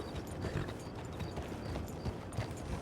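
A nervous horse being led in a stable, its hooves clip-clopping steadily at close range, with a brief whinny among the scuffs and shuffling.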